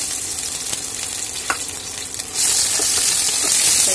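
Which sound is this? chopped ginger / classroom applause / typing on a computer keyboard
chopped ginger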